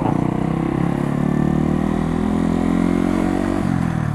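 A Yamaha motorcycle revs close by, its engine note rising and holding in a steady, rough drone for several seconds before dropping off near the end, with no talking over it.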